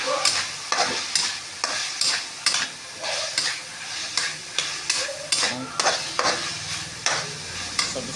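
Onion, garlic and pork sautéing in a pan for pancit, a steady frying sizzle broken by repeated sharp stirring scrapes of a utensil against the pan, close and fairly loud, with no talking.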